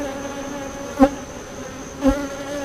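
Honeybees buzzing steadily around an open, healthy hive during an early July inspection, a continuous insect drone with two brief louder knocks or bumps standing out.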